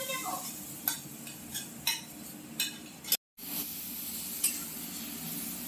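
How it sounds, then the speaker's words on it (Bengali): Mashed roasted eggplant bharta tipped into a wok and stirred, with steady sizzling under a series of sharp spatula scrapes and clinks against the pan, close and moderately loud. "বেগুন পোড়া যেটা মেখে রাখা হয়েছে সেটা দিয়ে দিচ্ছে কড়াইতে"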